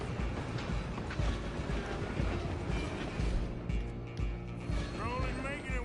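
A steam-era train in Red Dead Redemption runs with a rumbling, rattling rail clatter under a steady low drone, accompanied by game action noise and a brief whistling tone near the end.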